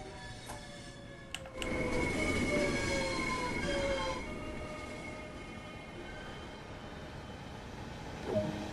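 A train rushes through a station without stopping in Train Sim World 2, a loud rolling rumble with metallic wheel tones that swells after a couple of clicks, then fades and holds steady.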